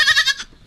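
A small backyard goat gives a single short, nasal bleat up close, followed by a faint second call.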